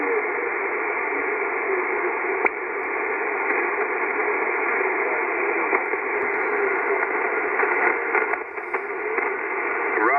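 Continuous band-limited radio hiss with a faint, barely readable amateur station from Italy buried in the noise on the 20-metre band; steady throughout with occasional soft crackles.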